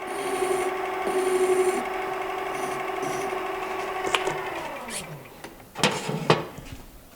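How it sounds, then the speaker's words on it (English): Scotch-Brite pad rubbing a spinning steel workpiece on a metal lathe, with a steady hum and whirr from the machine, then the motor winding down and a few knocks near the end. "Maybe a little Scotch-Brite to tidy all of that up."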